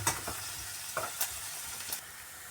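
Garlic fries in a hot pan with a steady, bright sizzle, while a few scraping stirring strokes cut through it up close.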